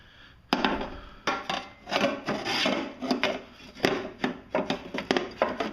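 A new mulch baffle on a Honda HRC216 lawn mower deck is slid into place, making a run of scraping, rasping plastic-on-metal rubs with sharp knocks in between, close up and with no talking.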